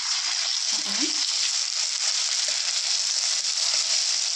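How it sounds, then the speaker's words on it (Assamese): Ginger and garlic sizzle in hot oil in a pan, a steady bright hiss with a few soft low bumps of stirring underneath. "এতিয়া মই ইয়াতে দিম এয়া আদা নহৰু"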